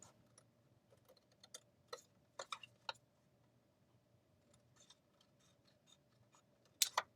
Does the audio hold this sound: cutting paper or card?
yes